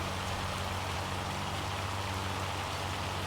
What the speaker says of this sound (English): The hail is pretty heavy.